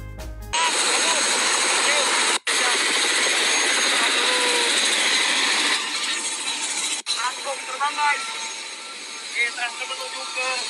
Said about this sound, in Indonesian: Ini baru nggak kaleng-kaleng ini. Helikopter, bro.